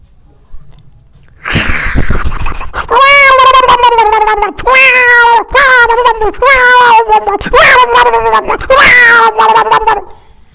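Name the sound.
voice imitating cats fighting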